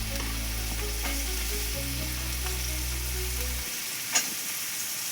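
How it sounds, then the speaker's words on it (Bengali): Dalia (cracked wheat) frying in hot oil with carrot and other vegetables gives a steady, close sizzle with a low hum beneath it, then a single light clink near the end. "এর মধ্যে গাজরটা এবার দিয়ে দেবো,"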